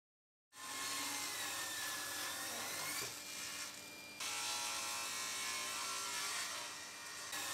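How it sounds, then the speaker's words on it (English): A table saw starts up and rips beech offcuts to width, a loud, close, sustained whirring cut with a brief dip in the middle before the blade bites again. "I'm going to start by ripping these down to width at the table saw."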